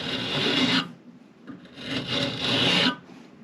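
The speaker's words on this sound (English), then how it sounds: "So the last bit was to chamfer the pads." Brake caliper pads are chamfered by hand with a file, two rough rasping strokes, each lasting about a second, close and fairly loud with a short pause between them.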